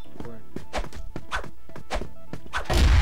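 In the video game CrossFire, kukri knife strikes land as a rapid series of heavy thunks and whacks at an uneven rhythm, loud and close, ending with a louder crashing burst.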